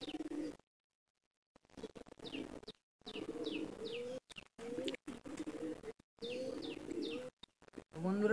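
Western chhapga and fulsira pigeons kept at a home coo repeatedly nearby in low, rolling phrases, with brief higher chirps mixed in and short gaps between the bursts.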